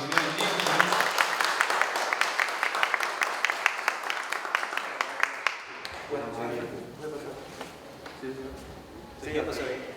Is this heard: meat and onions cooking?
no